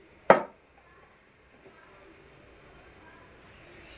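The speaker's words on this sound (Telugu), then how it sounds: "అందుకని ఈ చేపకి ఇట్లా గంట్లు పెట్టుకోవాలి" A knife cuts slits into a fish being prepared for frying with one sharp, close chop against a board, followed by quiet kitchen background.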